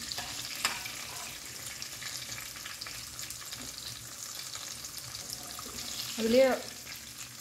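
Brinjal sizzles and crackles steadily in hot oil for an Undhiyu dish, a continuous broadband frying hiss with a brief louder clatter near the end, while a voice speaks a word.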